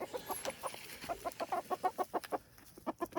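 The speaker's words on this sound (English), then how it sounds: "These are bantams. They're a smaller variety of chicken." Small bantam chickens cluck close by in a quick, rhythmic run of short clucks that speed up and crowd together, heard alone without talk.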